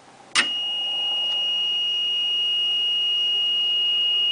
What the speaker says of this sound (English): there's no water in the bubblers right now, so the water level alarm will go off